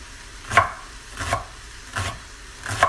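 A knife chops celery thinly on a cutting board for split pea soup, four evenly spaced crisp knocks, close and clear with no talk.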